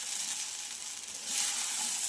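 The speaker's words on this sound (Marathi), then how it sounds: "तर हा मीडियम गॅसवर आपण छान फ्राय करून" Sabudana (sago pearls) frying in oil over a medium gas flame: a steady, close, dense sizzle that swells slightly midway, with no other sounds.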